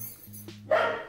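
A dog at a house for sale in Cuautla, Morelos gives a single short bark from a little distance, preceded by a low steady hum.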